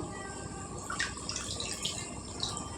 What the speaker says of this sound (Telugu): నానబెట్టి ఉంచుకున్నాను నేను చింతపండు ఈ రసం వేసుకుందాం